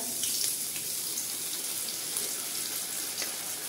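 Ginger paste sizzles steadily in hot oil in a pan, a continuous, even hiss with faint crackles while a Bengali home cook makes doi potol, pointed gourd in curd. No talking.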